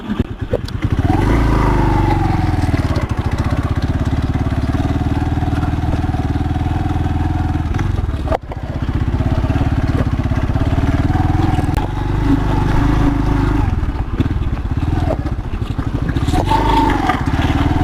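A motorcycle engine drones loudly and continuously while riding a rough road in Roxas, Isabela, with shifting revs and occasional bumps and rattles from an uneven surface.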